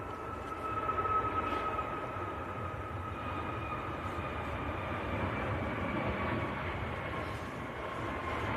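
TUI airliner at Manchester Airport, a steady broadband engine roar with a faint whine that holds fairly constant throughout, moderately distant, with no talk.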